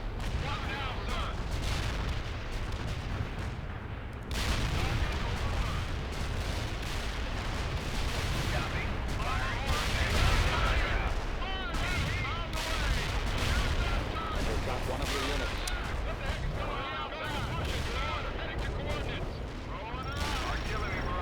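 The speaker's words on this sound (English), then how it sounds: "Artillery barrage in full effect." Artillery barrage in the World in Conflict video game during a Seattle battle, a dense, continuous roar of booming shells and rattling gunfire that stays loud throughout, with radio-style unit voices talking over the din.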